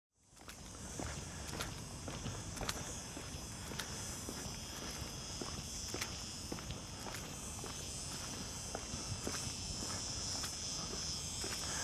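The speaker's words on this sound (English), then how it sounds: "I don't know if you can hear, but there's cicadas." Cicadas drone in a steady, high-pitched buzz throughout, with regular soft crunching footsteps underneath, in a park in Almería, Spain.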